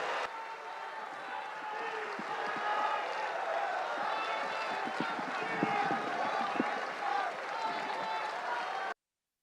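Hall audience at a Dr. Zakir Naik lecture breaks into sustained applause and crowd noise as he is welcomed to the stage, a steady dense wash of clapping lasting several seconds before cutting off.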